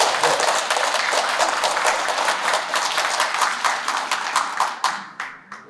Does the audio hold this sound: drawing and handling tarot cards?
no